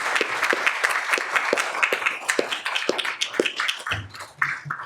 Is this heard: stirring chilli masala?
no